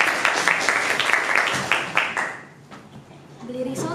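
A class of students gives a brief round of clapping during a classroom review session, the clapping loud at first, then fading, with chatter and a voice underneath.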